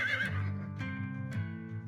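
A horse gives a single loud, drawn-out whinny that rises and then trails off, set against soft music in the Choices video game The Cursed Heart.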